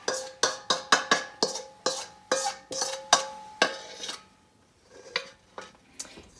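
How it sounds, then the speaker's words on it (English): Homemade play dough scraped from a bowl into a pot: a run of about a dozen close, sharp clinks and thuds in a fairly even rhythm, pausing briefly before a few softer knocks. "So once you've mixed your Play-Doh, I'm gonna transfer it into a pot."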